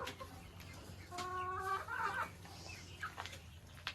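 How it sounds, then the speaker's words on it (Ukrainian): A rooster and hens cluck nearby, short harmonic calls and scratchy clucks over a low farmyard hum. "Ось, оце півень і ото курочка."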